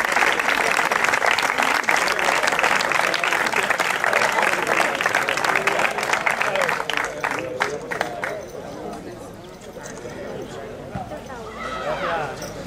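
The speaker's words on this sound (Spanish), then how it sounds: "¡Un fuerte aplauso para ellos!" Crowd applause for a triathlon team at a promotional triathlon in Hinojosa, steady and loud at first, then thinning into scattered claps with chatter and a voice speaking over it.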